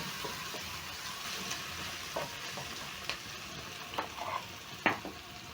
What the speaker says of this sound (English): Next, I'm going to be adding in some onions, garlic, and ginger.